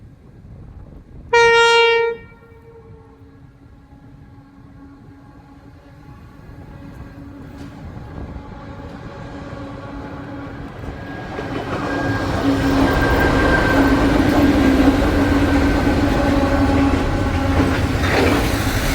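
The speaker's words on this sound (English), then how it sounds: "So an Aurizon coming through Crystal Brook." An Aurizon double-stack freight train with well wagons passes through Crystal Brook, South Australia, on the Perth to Melbourne via Adelaide run. A loud horn blast opens, then rumble and wheel clatter build steadily as the train draws close.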